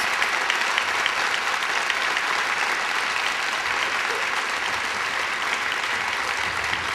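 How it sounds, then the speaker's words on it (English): A large audience gives a sustained round of applause for teens at a Respect For Life event, dense even clapping at a loud, steady level throughout with no talk over it. "a round of applause?"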